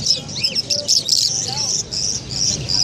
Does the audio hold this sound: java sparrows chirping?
yes